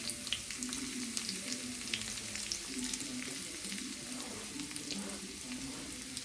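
Chopped small shallots fry in hot coconut oil, giving a steady, dense sizzle with crackling pops and occasional stirring, close up and alone.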